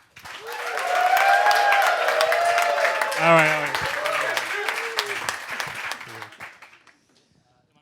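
Applause and cheering from an audience at a startup networking event in Washington DC as a guest is welcomed on stage. Loud, sustained clapping and whoops swell and then fade over several seconds, with voices and a brief spoken phrase over them.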